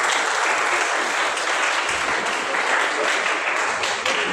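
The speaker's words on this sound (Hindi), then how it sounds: "एक बार डिस्ट्रिक्ट बहावल नगर की एजुकेशनल टीम के लिए भरपूर तालियां।" Audience applause for a district education team at a school ceremony, dense, loud clapping from a large crowd that stays steady and close throughout.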